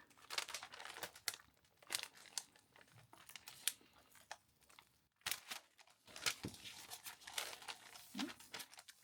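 A sticker is slowly peeled from the paper wrapping of a stationery package from a Kyoto shop, giving soft close crinkles and small tearing rustles in irregular bursts with short pauses, quiet and without talk.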